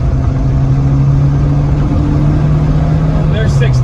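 VW Rabbit pickup (Caddy) engine pulling steadily while driving, a close, constant mid-pitched drone heard from inside the cab with some talk over it.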